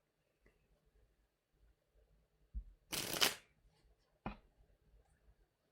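Tarot cards shuffled before one is drawn: a few soft taps, then a short burst of riffling card noise and a single sharp snap, close but quiet in an otherwise silent room.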